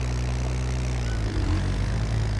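A car engine drones steadily inside the survival game DayZ, a loud continuous low hum that holds its pitch with a slight rise, close and alone with no talk.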